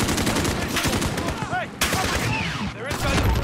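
Dense rapid gunfire in Call of Duty: Modern Warfare during an embassy mission, overlapping shots and bursts hammering continuously and loudly, with brief whistling sounds and a voice talking over the battle.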